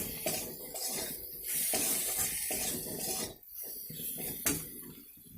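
Spice powders, including sambar masala and chaat masala, are roasted in a pan for masala dosa filling, a soft, close sizzle broken by scraping and stirring strokes in an uneven rhythm.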